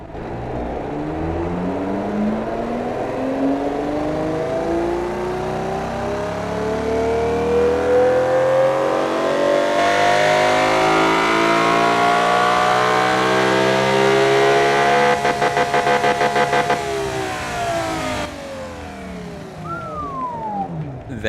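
A car engine in the racing game Automation revs up through rising pitch sweeps, loud and close, with a harsh buzzing peak before easing off and climbing again.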